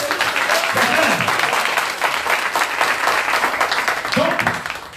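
A church audience applauds loudly in acclamation of Jesus during a sermon, a sustained wash of clapping with a voice speaking over it.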